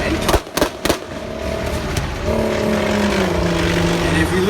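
A Bionix infantry fighting vehicle rolls past at an army open house with a deep, steady engine drone and rising mechanical tones, preceded by a few sharp bangs, loud and fairly near.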